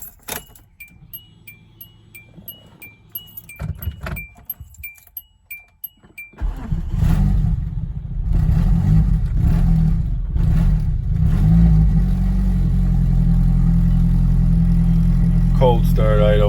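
A turbo Hyundai with wasted-spark ignition cranks after a few key jangles and clicks, fires up and settles into a loud, steady cold-start idle that runs slightly rough, close to the microphone.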